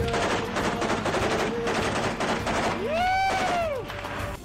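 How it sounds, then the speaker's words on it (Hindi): Rapid bursts of gunfire crackle continuously with heavy booms in urban combat in Mariupol, Ukraine, while a rising and falling whistling tone cuts through near the end. "यूक्रेन के सैनिकों की फायरिंग और रह रहकर हो रहे धमाकों की आवाजें आती सुनाई दी"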